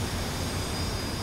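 An F-4C jet engine spools up during a simulated cold start, a steady broadband roar and whine with no voices, constant and fairly loud throughout.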